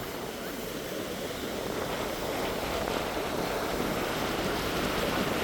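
Ocean waves wash steadily onto the sand at Praia da Cachoeira do Bom Jesus in Florianópolis, stirred by strong wind; a continuous broadband roar of surf and wind rises slightly across the stretch, with no talking.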